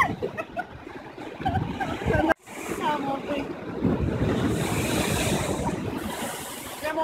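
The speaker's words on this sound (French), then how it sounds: "les vagues qui nous arrivent droit dessus" Ocean waves roll in against the rocks at Sunset Cliffs in San Diego at sunset, a loud, close, broad rushing surge with wind buffeting the microphone and a brief dropout midway.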